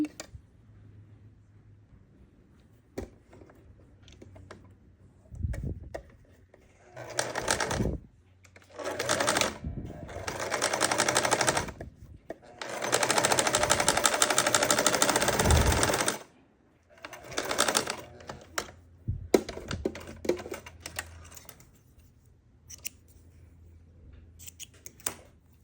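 A sewing machine stitches pieces of a DIY Labubu kit in several bursts of rapid mechanical whirring, the longest lasting a few seconds, close and fairly loud, with brief quiet talk between runs.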